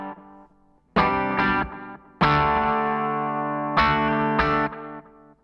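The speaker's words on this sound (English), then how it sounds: "Really simple tape delay with quite a lot of modulation on that." Electric guitar playing sustained distorted chords through an Empress Echosystem pedal set to a simple tape delay with heavy modulation, loud close notes with wavering echoed tails ringing out between strums.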